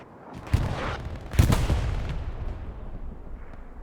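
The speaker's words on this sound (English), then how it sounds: "Big artillery shell." Big artillery shell explosions in the video game Broken Arrow, two heavy booming blasts close together followed by a long rumbling decay, with no talking.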